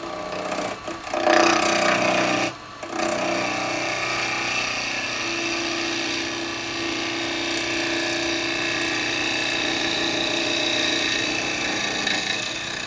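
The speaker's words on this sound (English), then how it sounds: "So there you go, carbide spindle gouge, isn't it?" Continuous scraping hiss of a carbide spindle gouge cutting wood on a spinning lathe, loud and close, with a brief pause near the start before the cut resumes steadily.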